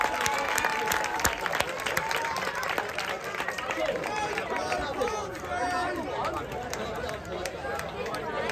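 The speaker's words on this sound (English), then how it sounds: "can we have a huge round of applause for a very, very, very worthy opponent" A boxing crowd at a club fight night applauds and cheers the opponent Chris King after a round, dense clapping mixed with crowd chatter and shouts, with an announcer's voice over it.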